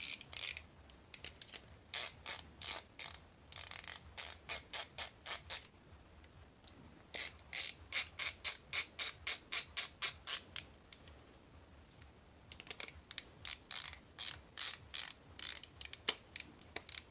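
A hand ratchet drives screws back into a Predator 2500 carburetor, giving rapid runs of crisp metallic clicks in several bursts separated by short pauses, close and clear with no speech.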